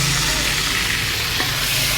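Indomie noodles for spicy mie nyemek fry and get stirred in a hot pan, a steady close sizzle with soft scraping of the utensil, no talking.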